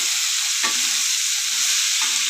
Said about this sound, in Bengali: এবার চাল ডাল ভালো করে আমি ভেজে নেব।